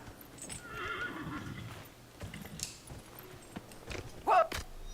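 A chestnut purebred Ferelden Forder horse in Dragon Age: Inquisition, heard in faint hoof clip-clops with a short whinny and one sharper loud burst near the end, under quiet game ambience.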